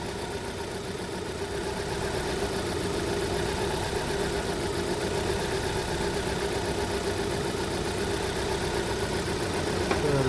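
A Vauxhall Astra J petrol engine idling roughly with a misfire, a steady close-up drone with an uneven, lumpy pulse running throughout, fairly loud and with no voices.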